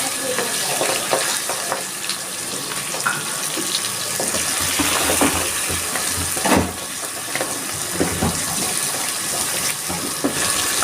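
Pabda fish frying briefly in hot oil in a pan, a steady hiss and sizzle running throughout at even volume, with small crackles and pops rising out of the continuous noise.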